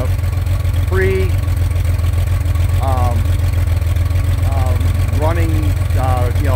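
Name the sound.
2.9 engine idling with race carburetors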